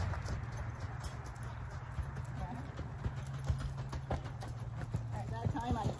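A Tennessee Walking Horse's hooves clop in a quick, even rhythm as it moves at its gait. A voice talks over the hoofbeats, which stay moderately close.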